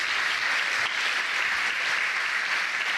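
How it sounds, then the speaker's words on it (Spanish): A church congregation claps steadily and loudly throughout, a dense, continuous wash of applause with no pauses. "Dale un aplauso al Señor."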